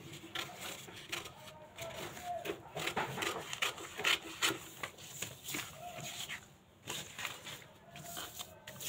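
Scissors cut blouse fabric for a katori blouse, giving uneven rasping snips and rubbing strokes at close range, fairly quiet, with some faint background voice.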